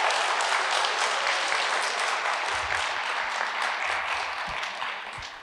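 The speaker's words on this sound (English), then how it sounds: "just a round of applause real quick" A wedding audience at Lake Tahoe applauds during a speech, with dense, sustained clapping from many hands that fills the whole stretch and tapers slightly at the end.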